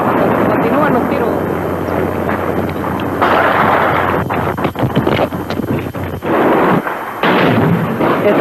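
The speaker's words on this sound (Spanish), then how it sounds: "Los tanques están disparando con sus armas." Tanks firing their guns in an archival recording: heavy booming blasts and rumbling gunfire over wind buffeting the microphone, loud and coarse, with a voice talking over much of it.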